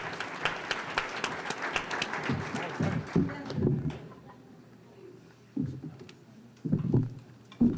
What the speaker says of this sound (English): Give yourselves a big round of applause for participating in this.